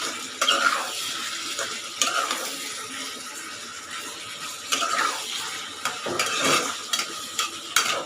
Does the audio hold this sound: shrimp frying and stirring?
yes